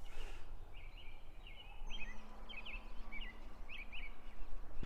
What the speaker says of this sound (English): the birds were all chirping and singing a beautiful song, and they're all doing it again.